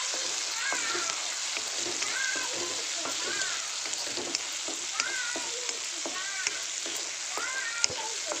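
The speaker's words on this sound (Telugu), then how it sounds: "అది మంచిగా వేయించాలి ఫ్రెండ్స్. అందులో ప్రాన్స్లో ఉన్న వాటర్ అంతా రిమూవ్ అవ్వాలి, ఆయిల్ సపరేట్ అయ్యేంత వరకు వేయించాలి." Prawns fry in hot oil with a continuous crackling sizzle, broken by sharp little pops and stirring scrapes, heard up close at a modest level.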